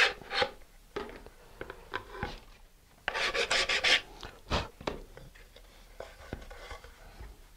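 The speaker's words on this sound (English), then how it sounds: "So I'm going to sand those down a little bit more" Hand sanding of small model lander parts, a series of short rasping strokes in irregular bursts, with a denser run of scrubbing in the middle, close and fairly quiet.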